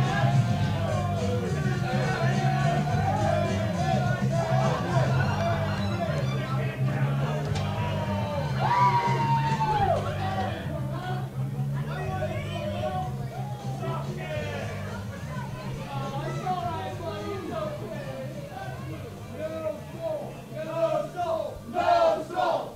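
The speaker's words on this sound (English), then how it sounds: "Very vocal crowd here in Grinnell this evening." A rowdy, drunken wrestling crowd in Grinnell, Iowa yells and hollers throughout a main event, dense overlapping shouts and whoops that rise and fall, with a commentator's voice running underneath.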